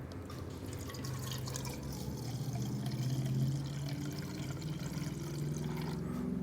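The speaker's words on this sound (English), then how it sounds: "So let's start with our witch hazel. We're going to put 1/2 cup into this little container." Witch hazel poured into a small container, a steady, close liquid pour and trickle running for several seconds with no talking.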